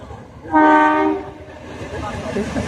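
A train horn blares loudly for about a second with a steady multi-tone blast, then fades into rumbling rail noise and faint background sounds, at the Bir Chilarai Bridge, Golakganj, over the Gangadhar River.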